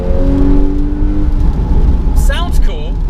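A Porsche Targa accelerates hard in a one-on-one pull, its engine droning loud and steady up close with rising whines near the end, while people talk over it.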